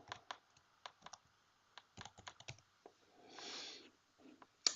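Keys on a computer keyboard are typed in short irregular bursts of close, crisp clicks, with a brief hiss in the middle and a sharp final tap.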